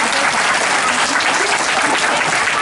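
Loud, dense applause from a large crowd, continuous and even throughout.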